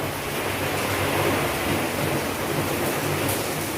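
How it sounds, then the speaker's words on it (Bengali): Heavy rain pours outside as gusty storm wind builds ahead of Cyclone Remal, a dense, steady roar of rain and wind that stays loud and unbroken throughout. "বৃষ্টি পড়ছে কিন্তু, বুঝতে পারছো ঝড় বোধহয় অলরেডি শুরু হয়ে গেছে, আওয়াজ হচ্ছে দেখছো"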